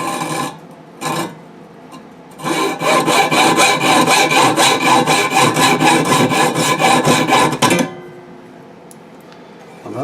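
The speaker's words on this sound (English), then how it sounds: "About an inch past that, start cutting." Close, rapid scraping strokes as 6013 welding rods are cut shorter, a brief scrape and then a steady burst of about five seconds of quick rhythmic cutting that stops abruptly.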